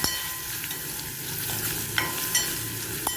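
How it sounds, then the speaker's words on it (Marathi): Crushed garlic, ten to twelve cloves, fries gently in a pan over low heat, giving a steady soft sizzle with a few light stirring clicks and scrapes. "लसूण घातल्यानंतर थोडं परतून घ्यायचं."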